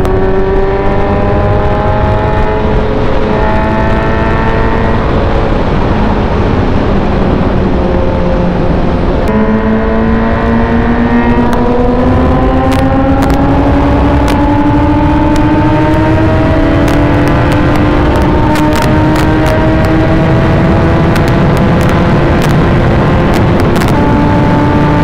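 A Kawasaki Z900 and a Suzuki GSX S750 scream through a drag race at full throttle, engine pitch climbing steeply through repeated gear changes, very loud and continuous with no voices.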